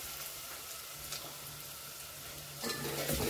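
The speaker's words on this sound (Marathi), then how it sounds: "तेल गरम झालंय, त्यात कांदा टाकून घेतलेला आहे" Onion frying in hot oil for chicken biryani, a steady close sizzle with occasional stirring scrapes that grows louder toward the end, no talking.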